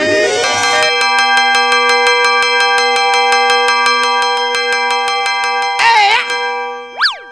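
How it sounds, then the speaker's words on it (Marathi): A bell on a comedy sketch stage rings rapidly and continuously with a bright, metallic, evenly spaced clatter for several seconds. It ends with a brief warbling burst and a rising boing-like tone. "काय घंटी वाजाडतो रे?"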